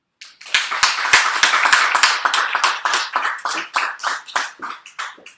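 Audience applause greeting author Jenny Offill at a Writers Speak Wednesday reading, a dense burst of many hands clapping that swells quickly and holds steady for several seconds before thinning slightly.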